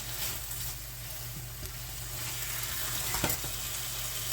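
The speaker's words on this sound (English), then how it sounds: "Give that a stir." Pan drippings saved from a beef roast, just thawed from the freezer, sizzle steadily in a hot pan while being stirred, with a faint scrape of the utensil around the 3.2-second mark.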